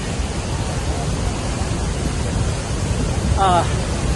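Murchison Falls roars as a dense, steady wall of water noise that stays loud and unbroken throughout, with a brief voice rising over it near the end.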